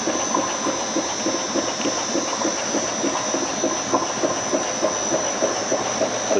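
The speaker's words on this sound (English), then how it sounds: "The discharge line is being purged here." A Mouvex C24 self-priming pump purges its discharge line with a loud, steady mechanical churn and a fast rhythmic pulsing that runs unbroken throughout, with no voices.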